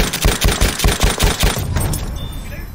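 Enemy machine gun in Battlefield 1 hammering out a steady, rapid stream of loud shots that cuts off and leaves a fading rumble of distant battle.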